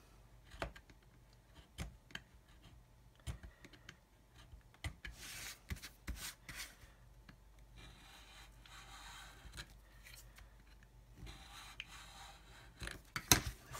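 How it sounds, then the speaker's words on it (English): A scribing tool scrapes panel lines into the plastic fuselage of an Italeri/AMT 1/72 scale B-52 model, with repeated short scratchy strokes and clicks, close and fairly quiet, with busier scraping bursts in the middle and near the end. "once I've got most of this done, I'll turn it round, and now I'll scribe"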